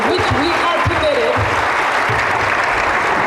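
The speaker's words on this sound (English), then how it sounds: "give a resounding round of applause to the continent of Africa" An audience at a presidential address in Kigali, Rwanda breaks into sustained, loud applause, a dense wash of clapping that fills the hall without letting up, with voices faintly mixed in.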